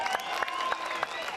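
Audience clapping at a stage music show, a light patter of applause heard close, with a voice speaking over it briefly.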